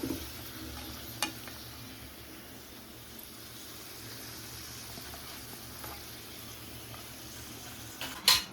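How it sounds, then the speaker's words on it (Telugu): Ingredients fry in ghee in a kadai, a quiet, steady sizzle running throughout with a couple of brief stirring clinks, one near the start and a louder one at the end, no talking. "ఇది నెయ్యిలో వేయించుకుంటేనే బాగుంటాయండి, టేస్ట్గా తినటానికి."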